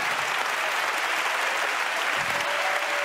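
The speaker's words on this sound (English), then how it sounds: "let's clap our hands and praise him" A church congregation claps its hands in praise during a sermon, a dense, continuous wall of many hands clapping at close range with faint vocal tones underneath.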